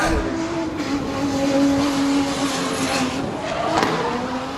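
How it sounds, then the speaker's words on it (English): A drift car at speed on the track at Pukekohe Park Raceway, engine screaming at high revs with continuous tyre squeal, loud and sustained for the whole stretch. "So Jamie Carr, the next driver, out on track"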